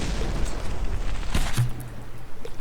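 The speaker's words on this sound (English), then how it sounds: "And then explosions." Dense rumbling booms and bursts from battleship explosions in the naval combat game From The Depths, Bahamut versus Leviathan, continuous heavy low rumble with several sharp blasts layered on top.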